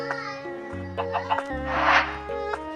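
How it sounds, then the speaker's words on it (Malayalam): Minecraft chickens cluck in short repeated calls over steady, tonal in-game music during survival play, with no talk over them. "കോഴിയൊക്കെ പോകുന്നുണ്ട് അടുത്തൂടെ"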